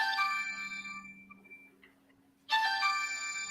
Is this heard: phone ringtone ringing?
yes